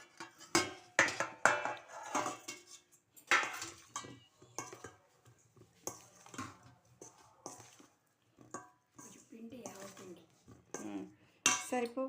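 A metal ladle clinks and scrapes against a cooking pot while mustard powder is stirred into a dish, irregular bursts of knocks and rattles up close, with pauses and some quiet talk in between.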